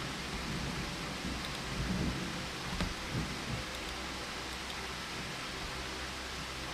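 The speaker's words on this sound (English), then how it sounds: "we'll probably get a little bit more rain. It's been pissing down." Heavy rain pours down as a steady, dense hiss of drops, with a faint low rumble of distant thunder partway through and no talking.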